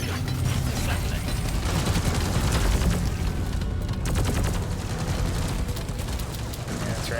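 Automated turrets in Deep Rock Galactic firing at enemies in rapid bursts, dense loud rattling gunfire throughout with clanking mechanisms and booms, while a voice talks over it.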